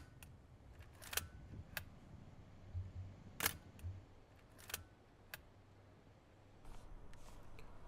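A Nikon F3 film camera with a 50mm lens fires its shutter several times, making crisp, close mechanical clicks spaced a second or so apart, with quiet handling noise between them outdoors in Tokyo.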